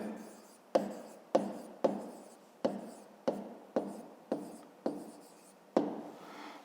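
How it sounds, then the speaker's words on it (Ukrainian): A pen writing on paper, heard close and quiet as a series of about nine short scratchy strokes, each starting with a sharp tap, spaced roughly half a second apart. "Напишу коротко між ними."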